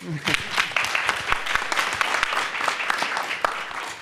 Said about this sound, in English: And I think we can give Erik a round of applause too.